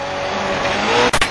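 A go-kart engine roars steadily at full throttle close by, giving a loud sustained buzzing drone with a brief break near the end.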